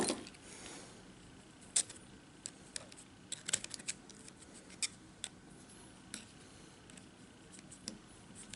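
Scissors snipping 28-gauge nichrome wire for a dual parallel vape coil on a Fishbone Plus RDA, faint sharp isolated clicks scattered over quiet background, with no voices.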